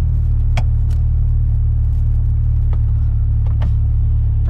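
Cabin noise from a car on worn tires that need replacing, a loud steady low road rumble and engine drone throughout with a few brief ticks and knocks over the top.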